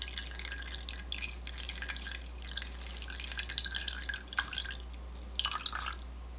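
Water drips from freshly dyed yarn as it is lifted out of a crock pot of lemon-juice dye, a close, uneven patter of small drops with a few brighter splashes over a steady low hum.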